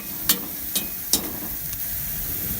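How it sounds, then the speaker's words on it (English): Pork skin cracklins fry in rendered lard in a cast iron pot, a steady loud sizzle with a few sharp popping bursts early on, heard close up with no talking. "they're really beginning to fry in the lard that they all rendered out"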